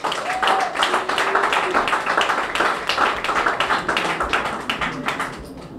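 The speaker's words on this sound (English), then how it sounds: "Give them another round of applause." Outdoor crowd at a grand opening ceremony on Martin Luther King Avenue claps steadily, dense overlapping applause holding a fairly loud level throughout before trailing off at the end, with faint voices mixed in.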